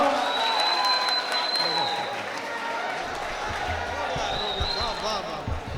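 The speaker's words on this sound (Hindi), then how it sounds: "दोस्तों तालियों से इस्तकबाल होना चाहिए।" Audience applause at an Indian poetry mushaira, a crowd clapping amid scattered thumps and shouts, with a voice speaking over it.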